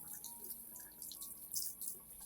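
A gentle stream of water from a tap runs over orchid roots during rinsing, a quiet, close, steady trickle with soft splashes and drips.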